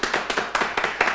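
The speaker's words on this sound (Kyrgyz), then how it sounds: "Кол чабуулар." A studio audience at a couples' game show in Bishkek claps in steady, rhythmic bursts, about five even waves of hand claps close to the microphone.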